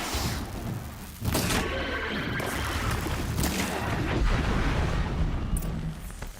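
A Strider machine firing in the video game Horizon Zero Dawn, heavy booming impacts and crashing bursts piled over a dense, loud, continuous game mix, with one strong hit near the start.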